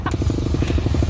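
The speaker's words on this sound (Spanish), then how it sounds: "Hoy vamos a cambiar y vamos a coger las motos de cross" Motocross bike engine running close by, a steady rapid pulsing drone with a rough, throbbing rhythm and no voices.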